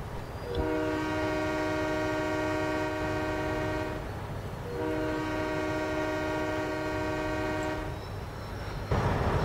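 A train in a railway video game sounds its whistle while leaving the Tamaros yards, two long, loud, steady blasts of several seconds each with a short gap between them, and rolling rail noise underneath.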